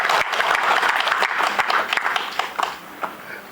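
Hall audience at a Tamil book launch applauding for Women's Day, a full burst of many hands clapping that starts loud and thins out over a few seconds, with scattered last claps at the end.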